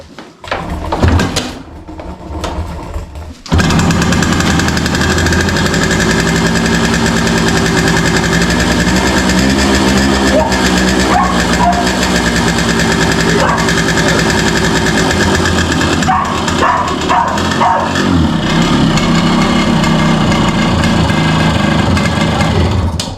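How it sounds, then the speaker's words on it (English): An old small engine running on the choke, starting up after a few seconds and then holding a loud, steady, slightly knocking idle close by. "So it starts quite easily, and the engine sounds,"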